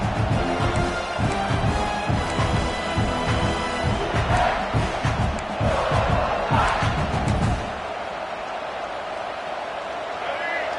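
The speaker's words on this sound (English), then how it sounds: "The roar of the crowd trying to fuel this defense to keep them pinned in their own end." Dense crowd roar at a college football scrimmage for Florida State, loud and sustained with cheering swells behind an announcer's voice, dropping to a quieter murmur near the end.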